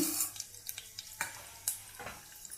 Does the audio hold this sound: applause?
no